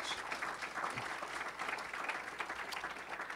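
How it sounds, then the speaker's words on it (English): Audience applause for the honoree at a Daemen College distinguished leaders event in Buffalo, a steady wash of many hands clapping, moderately loud and continuous throughout with no talk over it. "Let's give him a big round of applause."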